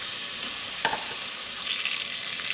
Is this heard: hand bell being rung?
no